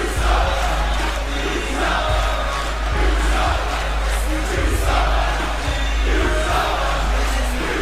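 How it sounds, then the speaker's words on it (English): A virtual arena crowd in a WWE 2K wrestling game roars disapprovingly after a championship match. The loud, sustained crowd noise swells and dips in waves without pause. "the crowd is not happy about it"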